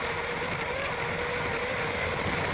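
Unlimited hydroplane racing boats roar past at speed on the San Diego Bay race course, a loud continuous engine drone with steady broadband spray and wind noise, no talk.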